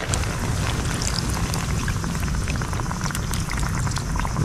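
Coconut milk poured over fish in a pot comes to a boil, a steady, close, dense bubbling and sizzling that runs without a break.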